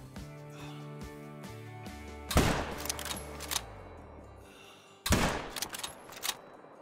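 Rifle shots fired at a crocodile about 260 yards away in the hunting game Call of the Wild: two sharp, loud reports several seconds apart, each followed by a rolling echo, over a quiet tonal background.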